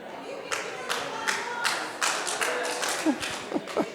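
An audience clapping at a CFO conference session, a scattered series of claps and taps, moderately near over a room murmur.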